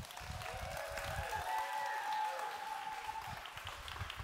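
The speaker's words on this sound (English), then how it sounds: "Round of applause" An audience applauds steadily for a few seconds, a dense wash of clapping with no voices over it.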